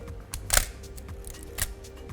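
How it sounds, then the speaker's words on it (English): A Nikon F3 film camera firing its mechanical emergency shutter release, giving two crisp, close mechanical clicks about a second apart over a quiet room background. "You can use the emergency shutter button."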